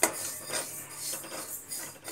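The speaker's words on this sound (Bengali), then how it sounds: "মুগের ডালটা একটু ভেজে নেব।" Moong dal dry-roasting in a wok, the lentils rasping and rustling as they are stirred with a utensil, soft and close, continuous scraping with no talking.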